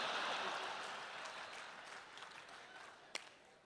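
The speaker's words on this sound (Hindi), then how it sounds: "समापन पर भरपूर तालियां बजा देना" An audience at a humorous Hindi talk breaks into applause that starts fairly strong, then gradually thins and fades, with one sharp isolated clap near the end.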